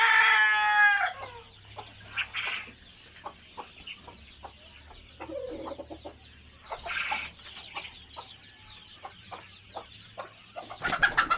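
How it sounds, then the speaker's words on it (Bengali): Broiler chickens on a poultry farm cluck in a steady scatter of short, soft calls, with brief crowing bursts near the start, middle and end over low farm background noise. "দেখেন আমার পাশে হলো মুরগির খামার,"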